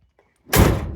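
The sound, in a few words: Chevrolet C10 truck door opening and shutting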